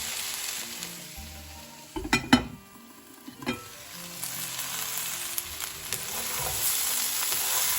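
Cabbage and carrot curry fries in a pan with a quiet, steady sizzle, broken by a few short clinks and scrapes of stirring partway through.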